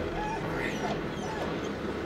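A dog whimpers in a Walking Dead episode, thin plaintive whines rising and falling over a constant dense background of mixed show audio.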